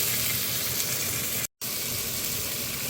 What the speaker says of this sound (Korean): 그래서 좀 타지 않게끔 계속 좀 실리콘 뱃으로 좀 긁어주면서 타지 않게끔 노릇노릇하게 볶아주겠습니다